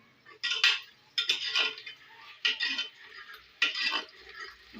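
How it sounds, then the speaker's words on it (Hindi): Ginger being ground in a kitchen, likely with a mortar and pestle: four or five bursts of scraping and grinding, each about half a second long with short pauses between, close and fairly loud, with no talk. "ये मैं अदरक पीस रही हूँ।"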